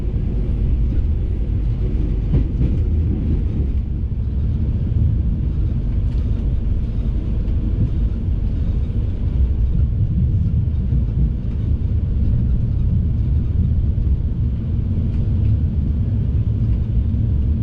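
A Parahyangan passenger train runs through Cikampek station without stopping, heard from on board as a steady, loud low rumble and rolling drone that continues without a break, with no talking.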